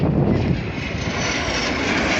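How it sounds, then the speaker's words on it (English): A jet aircraft roars past, a steady broad rushing engine noise, loud and continuous throughout. "Showing off the manoeuvrability of this pretty little jet."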